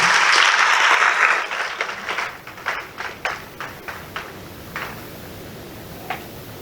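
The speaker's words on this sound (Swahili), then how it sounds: "Wanafunzi, naomba tumpigie tena Mheshimiwa Waziri makofi ya nguvu" Students at a formal gathering give the minister a round of applause, a loud burst of dense clapping that quickly thins into a handful of scattered, separate claps before fading out.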